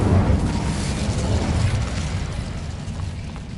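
Incendio fire spell blast in Hogwarts Legacy, a dense rumbling whoosh of flame that stays loud and steady, slowly easing off over a few seconds.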